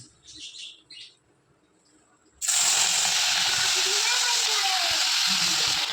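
Marinated shrimp hitting hot oil in a pan burst into a loud, sustained sizzle that starts abruptly and holds steady, after a few faint brief sounds and near silence.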